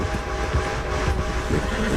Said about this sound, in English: The train went by.